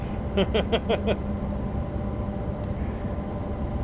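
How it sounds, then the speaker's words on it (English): A train passes close by a house, with a run of short, evenly spaced tonal blasts at the start over a continuous low rumble that carries on steadily afterward. "I can close my door, but that's not going to stop the train from going past my house."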